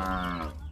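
A buffalo gives one short, low, droning moo up close, steady and resonant before tapering off.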